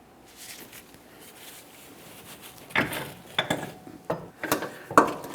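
Metal pry bar working a rear CV axle loose from the differential on a 2011-2021 Jeep Grand Cherokee: a quiet start, then several sharp metallic clanks and scrapes in an irregular cluster near the end, close by.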